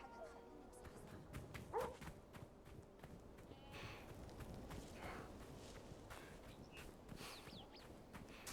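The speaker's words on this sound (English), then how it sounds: "No, get away, dogs." Dogs barking in the video game The Order of Giants, faint yips and barks mixed with footstep-like clopping in a quiet, busy game scene, with no talking.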